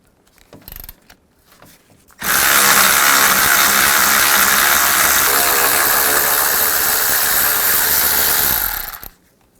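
Power tool spinning a 10mm socket to remove bolts during a 2000-2006 Chevy Tahoe power steering oil cooler replacement: a loud continuous whirring mechanical buzz for about seven seconds after a few short clicks, then stopping.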